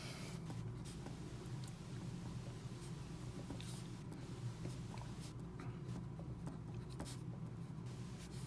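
Marker or chalk scratches steadily across a classroom board in continuous strokes, faint and a little distant, over a constant low room rumble with no one speaking.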